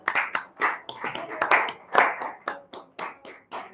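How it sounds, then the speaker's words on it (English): A small group of people claps in an uneven rhythm during a casual live stream, crisp close hand claps running the whole moment without talk. "We gotta clap them in."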